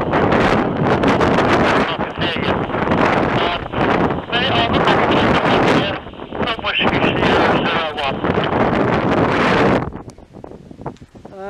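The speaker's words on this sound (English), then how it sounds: "up here on Highdown Hill where it's very windy and getting colder" Strong wind buffets the microphone on top of Highdown Hill, a loud continuous roar with gusty surges that drops away sharply near the end.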